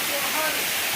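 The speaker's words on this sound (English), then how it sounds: "It's a waterfall in Philly." Dense, steady rushing of water at Adom Waterfalls in Ghana, a loud continuous broadband roar with no breaks, heard up close.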